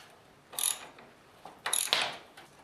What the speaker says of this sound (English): And now you want to remove these 2 bolts here. And for this, I'm using a ratchet and a 1/2-inch socket.